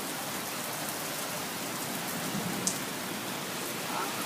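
Heavy rain pours onto a road during a Montana storm, a dense, steady hiss of drops that continues without letup and fills the whole scene.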